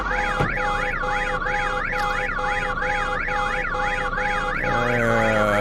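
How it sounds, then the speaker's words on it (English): Several alarms wail at once in the zombie survival game Vein: a loud, steady siren sweeping up and down in a regular rise-and-fall pattern over constant tones. It keeps going without a break and changes to a different tone near the end. No one speaks. "And I got multiple alarms going off."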